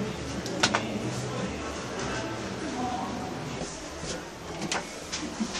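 Doors of a 1995 elevator slide shut inside a restaurant lift at an El Corte Inglés department store, with a few soft clunks over steady cabin hum and a voice speaking.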